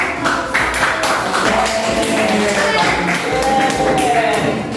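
Audience applause at a school coaching presentation, a dense wash of many hands clapping steadily and fairly loudly for the whole stretch, with some crowd murmur mixed in.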